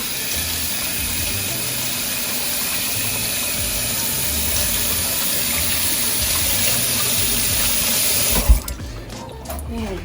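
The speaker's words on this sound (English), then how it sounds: "let's just kick it old school and clean it off with some water" Water from a kitchen tap gushes steadily onto a surface being rinsed clean, a continuous hiss that cuts off near the end with a few clattering knocks and drips.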